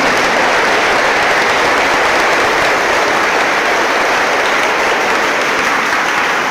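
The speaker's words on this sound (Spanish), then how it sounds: "Un aplauso fue para la niña." Sustained loud applause from a church congregation for a young girl, dense even clapping that fills the whole stretch without letting up.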